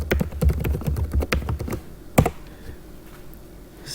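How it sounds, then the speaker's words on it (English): Rapid clicking of computer keys in a short typing burst with one sharper tap near the middle, then a quiet pause, close and fairly clear. "we're going to type in"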